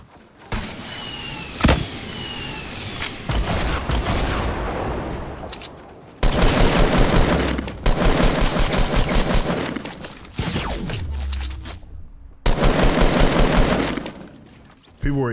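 Gunfire in Fortnite Battle Royale: loud, rapid automatic bursts in repeated volleys, separated by brief pauses and single sharp shots, close and intense, with players talking beneath the shooting.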